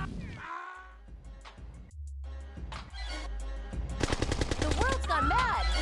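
Rapid gunfire rattles through a chaotic scene in the video game Bad Day L.A., with bursts of shots building into a dense, loud volley over game music and effects.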